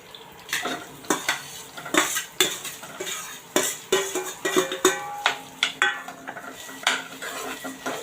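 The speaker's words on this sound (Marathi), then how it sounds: "जो बटाटा आपण चिरला होता तो आता आपण याच्यामध्ये घालणार आहोत" Chopped potato pieces tumble into a pan of hot oil for a fasting-style masala dosa filling, then a spoon scrapes and clinks against the metal in a steady run of sharp strokes, close and fairly loud.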